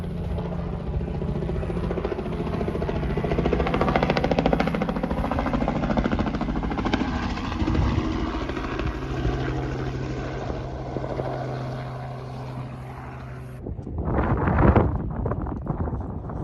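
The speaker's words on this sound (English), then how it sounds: "Helicopter. It's coming right past Gus. Coming right past." A helicopter passes over river flats and alpine terrain on a deer and pig hunt, a steady broad rotor roar with wind buffeting the microphone, fading after a while and followed by a brief gusty rustle.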